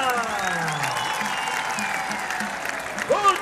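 A festival audience at a Mozambican cultural event applauds in a sustained, moderately loud wash of clapping, with a voice speaking over it and a brief cheer near the end.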